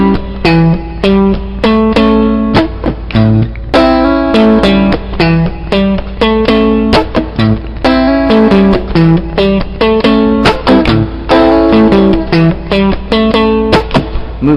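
A guitar plays a barred riff pattern high on the neck, with quick plucked notes and chord stabs in a choppy rhythm, loud and close with no talking.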